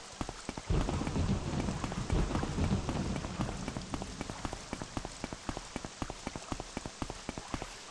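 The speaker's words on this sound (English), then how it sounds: "And yes, I am gonna make you walk through the rain." Steady rain falls in the video game Morrowind, a continuous patter of drops with low rumbling like distant thunder early on and rhythmic footstep thuds running underneath, with no voices.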